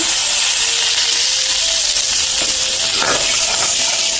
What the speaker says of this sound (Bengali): এখন দিয়ে দেবো আদা রসুন। আদা রসুন একটু ভাজাতে হবে